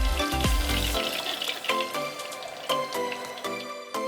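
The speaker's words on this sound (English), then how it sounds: "we're gonna finish frying the rest of the chicken pieces." Oil sizzling and crackling steadily as chicken pieces fry in a pan, with occasional clinks and pops, close up.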